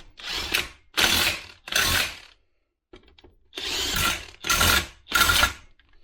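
Close, loud bursts of a power impact tool or drill driving the rear brake caliper bolts on a Ford F-350 in a crisscross pattern. Three roughly half-second runs, a short pause, then three more, with no talking.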